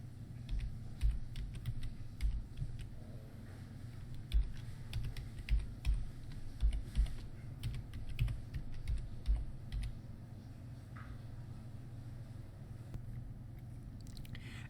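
Quiet, close keystrokes tap on a computer keyboard in irregular bursts, then pause briefly before a few more presses.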